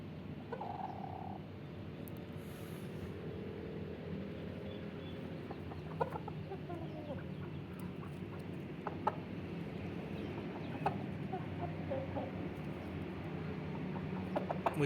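Hens and chicks cluck and cheep softly in a farmyard during hot weather, scattered faint calls over steady low background noise throughout.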